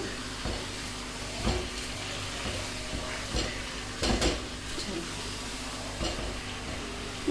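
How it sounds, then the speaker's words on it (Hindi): Green chillies and potatoes fry in a pan with a steady low sizzle, while a spoon repeatedly scrapes and knocks against the pan in irregular strokes, heard up close. "चलो इसको अच्छे से मैं फ्राई करती हूँ"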